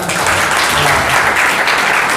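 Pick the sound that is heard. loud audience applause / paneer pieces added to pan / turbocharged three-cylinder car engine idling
loud audience applause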